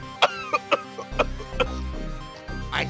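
Several short coughs from a character in the space strategy game FTL: Faster Than Light, sharp separate bursts over a low in-game hum and background music.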